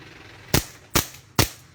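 Three sharp gunshots from a race gun pistol crack out about half a second apart at a firing range, each a loud broadband bang with a short decay, and no talking.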